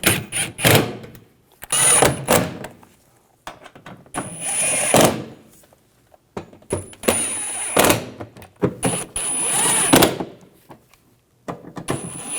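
Engine mount bolts on a 2014-2018 GMC Sierra 5.3L V8 are snugged down with hand tools, heard as repeated short bursts of metallic ratcheting and clattering separated by quiet pauses, close and fairly loud.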